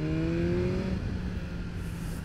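A BMW S1000R motorcycle engine drones steadily while riding in the rain, its pitch sliding early on, with a constant wash of wind and road hiss and no talk.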